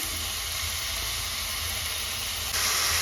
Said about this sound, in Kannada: ಒಂದು ಐದು ನಿಮಿಷ ಇದನ್ನು ಚೆನ್ನಾಗಿ ಫ್ರೈ ಮಾಡ್ಕೊಳ್ಳಿ